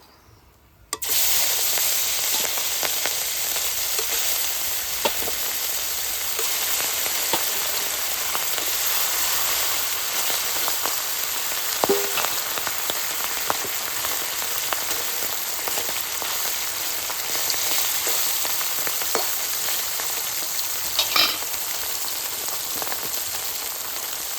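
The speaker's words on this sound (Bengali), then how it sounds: "বাকি যে মাছগুলি রয়েছে একইভাবে আমি একে তেলে বেজে নেব" Pieces of silver carp fish frying in hot oil, a dense continuous crackling sizzle that starts abruptly and holds steady and fairly loud, with occasional sharper pops and no talking.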